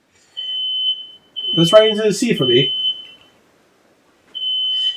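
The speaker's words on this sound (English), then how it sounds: "my smoke detector's going off." A household smoke detector beeps with a steady, piercing high tone, sounding briefly at the start and again at the end, with a voice speaking in the gap between.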